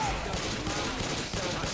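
Rapid gunfire at zombies during co-op survival play, dense continuous shooting throughout with a faint voice underneath.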